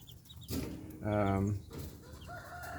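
A young American breed chick calls out loud and close with a bright harmonic peep in the middle, set against low background noise and faint rustling.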